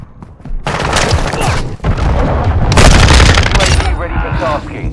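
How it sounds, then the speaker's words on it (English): A cruise missile explodes in the game Call of Duty: Modern Warfare II during a team deathmatch, a loud, close blast and rumbling crackle amid gunfire, with game voices speaking. "Hostile cruise missile launched."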